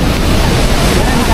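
Randha waterfall near Bhandardara in the monsoon rain, a steady broadband roar of falling water that stays loud and unbroken throughout.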